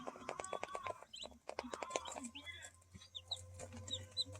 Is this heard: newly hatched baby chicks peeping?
yes